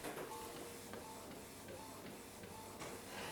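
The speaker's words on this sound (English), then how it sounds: "Printing noises, we should have a print in a few seconds." An Epson WF-C8690 printer printing a postcard on A6 stock, a continuous mechanical whir with faint rhythmic clicks and feed sounds, close and steady with no talk.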